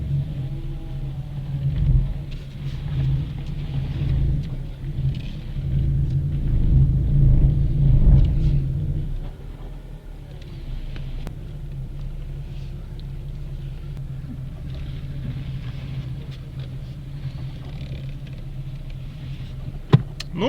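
A car driving with steady low road rumble and engine hum inside the cabin, louder in the first half, then quieter and even, while a dashcam mirror with a rear camera is tested during parking.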